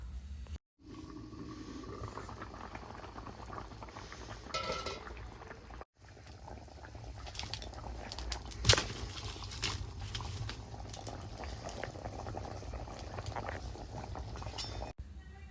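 Elephant foot yam curry boiling in a covered pot gives a steady, low bubbling simmer. Faint clinks come through now and then, and there is no talk.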